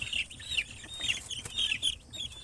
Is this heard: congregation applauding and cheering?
no